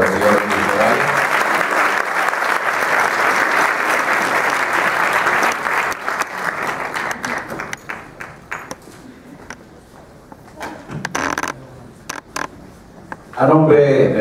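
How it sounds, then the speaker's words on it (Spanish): An audience at a career tribute ceremony for actor Gustavo Rojo applauds Mr. Villarreal. Loud, thick clapping holds for about seven seconds, then dwindles to scattered claps, creaks and stray noises, with a brief burst near the end. "El aplauso, por favor, para el señor Villarreal."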